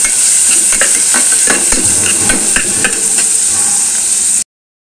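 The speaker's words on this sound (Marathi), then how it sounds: "आता कांदा आपण व्यवस्थित परतून घेऊया लालसर होईपर्यंत।" Onions and curry leaves sauté in a pan for a stuffed brinjal curry, a steady loud sizzle with repeated scraping stir strokes, ending abruptly in silence.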